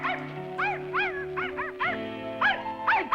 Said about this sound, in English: Damn, that annoying dog's back.